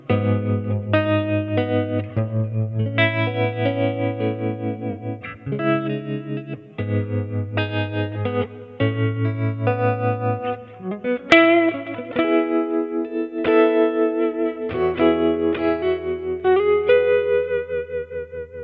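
An electric guitar plays through a vintage Silvertone Twin 12 amp profile on a Kemper, with chords and single notes ringing out, loud and distorted, alone with no talking.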